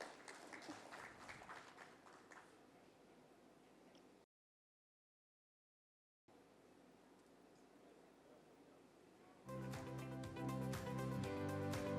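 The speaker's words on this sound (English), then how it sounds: "Let's offer a round of applause for Mr. Hishan Singhawansa" Audience applause fills a hospitality conference hall as a speaker walks on stage. It is a steady crowd clatter that breaks off for a moment, then returns louder alongside a brighter tonal layer.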